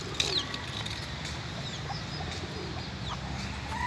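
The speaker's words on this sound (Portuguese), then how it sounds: "Olha eles ciscando pro pintinho. Olha que bonitinho dando comida pro pintinho." Hens in a park cluck softly and call their chicks to eat amid steady outdoor background noise, with faint scattered bird calls over a continuous low hum.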